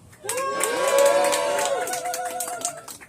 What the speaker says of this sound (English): Let's give the state young Republicans a cheer.